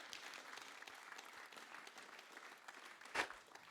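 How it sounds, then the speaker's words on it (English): Audience applause for the actors at a Wexford script writers' event, a faint, steady patter of clapping from a small crowd with one brief louder burst near the end. "Could we please give a round of applause to our actors"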